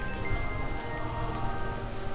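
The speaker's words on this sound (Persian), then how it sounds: "امروز یه شنبه است و باز بارون داره میاد." Rain falling steadily in a church courtyard on a Sunday, a dense, continuous hiss close to the microphone with no talking.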